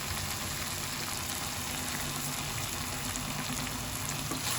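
Mixed vegetables with a spoonful of sugar frying in a pan, a steady, dense sizzle that holds evenly throughout with no talk over it.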